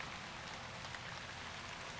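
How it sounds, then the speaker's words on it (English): Steady rain falls in the fantasy video game Shroud of the Avatar, an even, close hiss of downpour with no pauses and no voices. "It's raining."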